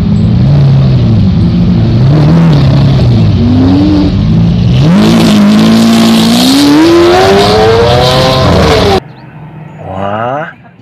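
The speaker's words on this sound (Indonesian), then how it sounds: "di sini juga ada mobil balap Lamborghini warna kuning" A yellow Lamborghini race car engine drones loudly and close, its pitch dipping and climbing as it revs and accelerates, building to a higher scream before cutting off abruptly, followed by a brief fainter rising whine.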